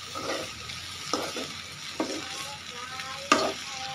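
Bitter gourd pieces fry in oil and are turned with a spoon, making a steady close sizzle broken by several short scraping knocks of the spoon against the pan.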